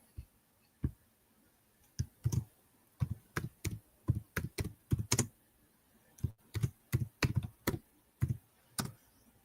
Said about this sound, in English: I'm gonna type it out for you.